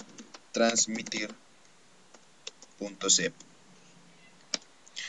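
Computer keyboard keys clicking in short bursts as a web address is typed, with scattered single taps between the bursts, close and fairly quiet.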